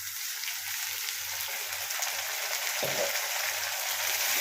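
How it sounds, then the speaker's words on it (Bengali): Onion, garlic and ginger paste hits hot oil with fried potatoes, giving a steady broadband sizzle throughout, with a brief scrape or clatter near the middle. "এবারে এতে এই পেঁয়াজ রসুন আদার যে পেস্টটা করে রেখেছি এটা দিয়ে দিলাম"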